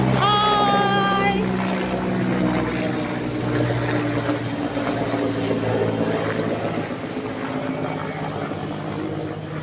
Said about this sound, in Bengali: এই যে একটা হেলিকপ্টার যাচ্ছে